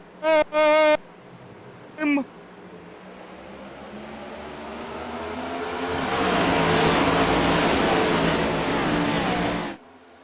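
Race cars start at Pocono Raceway in iRacing, with a steady engine drone that swells into a loud roaring pack and then cuts off abruptly, after a few short tonal beeps at the start.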